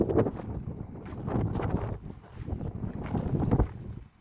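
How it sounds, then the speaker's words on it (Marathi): A strong wind blows outdoors during a family visit in a village setting, buffeting the microphone with an uneven, gusting low rumble that swells and dips over a few seconds, with no clear speech. "लयच वार सुटलंय"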